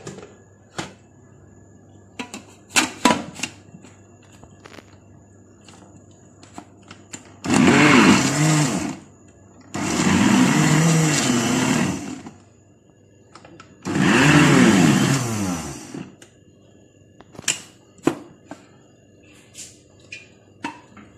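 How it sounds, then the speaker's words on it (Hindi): Electric chopper grinding keema mince and chana dal for shami kabab, running in three loud whirring bursts of a few seconds each, separated by pauses with clicks and taps from the lid and bowl. "इधर हमारे पास यहाँ इलेक्ट्रिक चॉपर है, इसके अंदर मैं थोड़ा थोड़ा जो है वो डालूंगी और उसके बाद इसको ग्राइंड कर लेंगे।"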